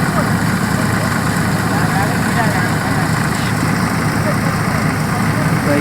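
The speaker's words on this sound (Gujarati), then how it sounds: "ટ્રેક્ટર આવી ગયું છે." A tractor engine idles steadily nearby, a constant low rumble running through the whole stretch with no breaks, and the engine drone stays loud throughout.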